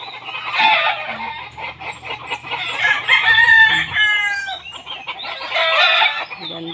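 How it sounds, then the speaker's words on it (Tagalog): A flock of pet roosters in a Filipino backyard, some perched near a mango tree, crow noisily and repeatedly. Overlapping cock-a-doodle-doos and clucking come close and loud in several bursts. "Ay, nangag-ingay na."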